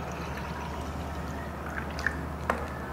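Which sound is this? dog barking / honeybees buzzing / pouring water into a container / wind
pouring water into a container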